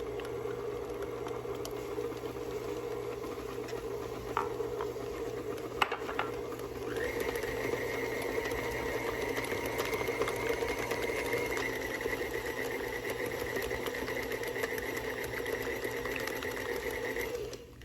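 Electric hand mixer beating cream cheese as sugar is slowly added for a cheesecake, a steady close motor whir running continuously with a slight pitch rise partway through, no voices.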